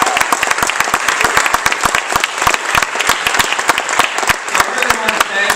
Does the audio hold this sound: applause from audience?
yes